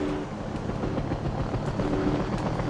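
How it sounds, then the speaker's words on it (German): A helicopter flying away in the video game Battlefield 1942 makes a steady, dense rotor and engine drone that fills the whole stretch without any talk. "das ist unser Hubschrauber, der hier wegfliegt."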